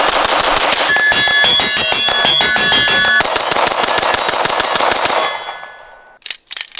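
A rapid string of pistol shots fires 115-grain range ammo at a steel target about 15 yards away, a dense volley of sharp cracks and ringing metallic clangs that stops abruptly, followed by a few scattered clinks.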